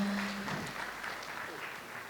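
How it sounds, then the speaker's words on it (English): Conference audience applauding a panel discussion on analytics adoption, a modest, fairly quiet patter of clapping that fades slightly over two seconds. "Let's give a round of applause to the panel for that"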